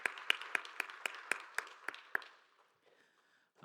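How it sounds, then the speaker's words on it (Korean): A church congregation claps in an even, steady rhythm, about a dozen crisp hand claps that stop abruptly, followed by quiet room tone and a faint hum. "서로를 격려하며 박수하겠습니다"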